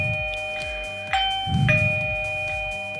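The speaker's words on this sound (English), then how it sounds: "So it makes a loud doorbell sound on the device itself." A smart doorbell unit rings out loud with its own chime, tones sustained and held throughout, close by and without talk.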